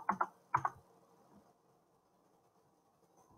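Someone types on a computer keyboard in a quiet room: two quick clusters of close, crisp key clicks, then near silence with a faint hum and a single tap at the end.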